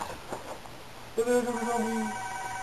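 An electronic phone ringtone starts partway through, a bright melodic tone pattern repeating, after a few quiet knocks and faint background noise.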